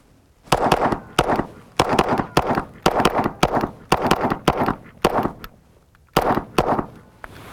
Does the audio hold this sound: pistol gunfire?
yes